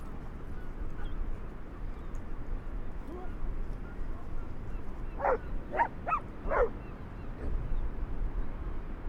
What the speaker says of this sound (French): j'ai 8 chiens maintenant